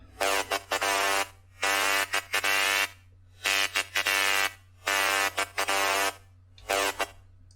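A harsh, buzzy FM synth lead with an extreme smearing effect from the MTransformer plugin plays loud sustained horn-like notes in repeating bursts separated by short silences, over a low steady hum.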